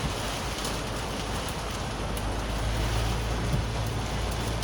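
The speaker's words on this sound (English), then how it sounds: "Oh, look, you see the rain getting blown by?" Heavy rain driven by wind against a truck, a steady wash of hissing noise with a low rumble underneath, continuous and fairly even, with no voices.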